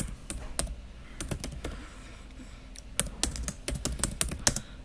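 Quiet, uneven clicking of keys on a computer keyboard, coming in short clusters of keystrokes with brief pauses, fairly close and without speech.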